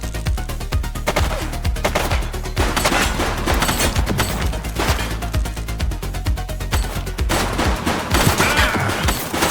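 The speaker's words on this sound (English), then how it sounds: "Shots fired!" Heavy gunfire in The Precinct, a police game: sustained volleys of loud, rapid shots and bursts that overlap into a near-continuous barrage with a few crashing impacts, close and intense throughout.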